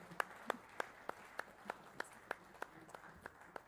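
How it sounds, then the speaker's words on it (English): Faint, sparse clapping for the adjudication panel at a national sports awards ceremony: a dozen or so evenly spaced single claps in a slow, steady rhythm, heard from a distance in a quiet hall. "could we give these ladies and gentlemen a round of applause?"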